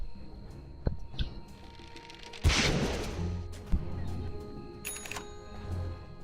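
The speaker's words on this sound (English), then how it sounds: "Power shots being let out." Power Shot, an ability fired in the game Dota 2, gives a sharp whooshing blast followed by a rushing burst amid scattered small clicks and pings, moderately loud with no talking.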